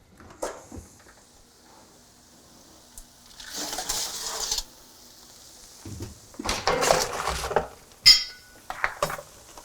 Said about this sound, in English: we're gonna take our root veggies out of the oven and give them a nice stir